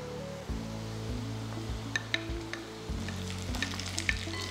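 Shallots, okra and tomato sauté in a pan for sambar, giving a steady close sizzle with scattered crackles and spatula scrapes over a persistent low hum, with no talk.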